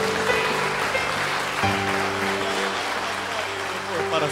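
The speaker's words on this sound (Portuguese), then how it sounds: "Aplauda o Senhor bem forte." A church congregation applauds under a worship service's loud music and singing, with the clapping blending into the musical backdrop throughout.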